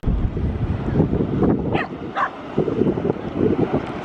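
Dogs out on a breezy beach bark and yip in short bursts, moderately close, over steady wind noise with no talking.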